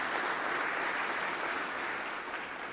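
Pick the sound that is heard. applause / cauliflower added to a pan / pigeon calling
applause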